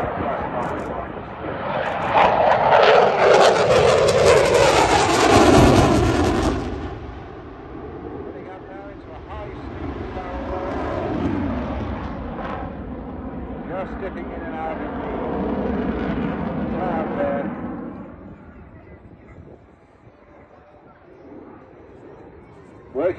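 RAF Typhoon jet performing an airshow display at Southport, a loud roaring jet rush that swells and fades as it turns, with a commentator talking over it throughout.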